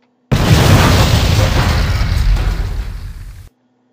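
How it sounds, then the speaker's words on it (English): A single loud, bomb-like explosion rumbles close by in the Gaza Strip, a broad blast that holds for about three seconds before fading abruptly, with no voices over it. "It sounded like a bomb."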